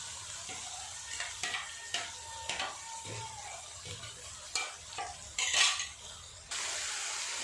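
Cumin sizzling in hot oil for dal gives a steady close hiss broken by repeated scraping stirs and clinks of a spoon against the pan, with a louder burst of frying near the end.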